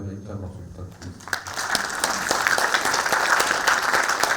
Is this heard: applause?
yes